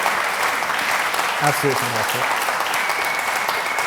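An audience claps steadily through a community awards evening, a continuous wash of applause with a brief spoken remark rising over it midway.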